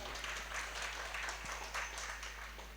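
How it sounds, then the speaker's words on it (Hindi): Applause rings out from the audience at an outdoor all-India mushaira poetry gathering, a steady spread of clapping over a low constant hum, fairly distant and even throughout. "बार जोरदार तालियां"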